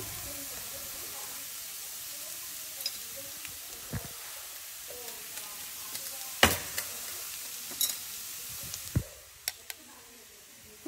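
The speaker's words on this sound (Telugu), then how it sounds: "ఇంకా ఫ్రై అవుతూనే ఉంది." Bitter gourd (kakarakaya) fries in a stainless steel pan, giving a soft, steady sizzle with scattered light scrapes and clicks of stirring, fairly faint and close.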